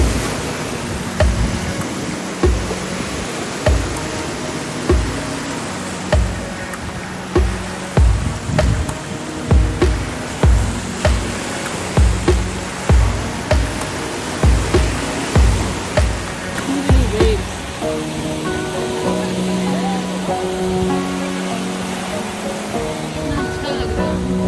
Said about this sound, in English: I think waves are bigger here.